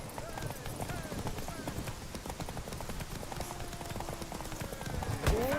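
Roach, a horse in The Witcher 3, gallops with rapid, steady hoofbeats that run throughout, moderately loud, with game sounds in the background.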